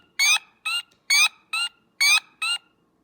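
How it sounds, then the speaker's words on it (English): Spring peeper frogs call in three pairs of clear, high, ringing notes, each pair a longer peep followed by a shorter one, evenly spaced against a quiet background. "We still have plenty of peepers that are calling."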